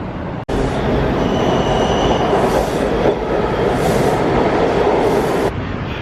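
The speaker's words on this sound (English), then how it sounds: "We just got off the Metro in the middle" A Washington D.C. Metro train, a loud, steady roar of rolling carriages close by, with thin high squealing tones that swell and fade, then an abrupt stop.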